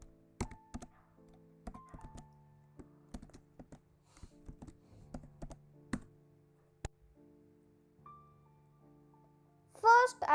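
Close, quiet keystrokes on a computer keyboard while C code is written, coming in irregular bursts of taps with short pauses, plus a louder clatter near the end.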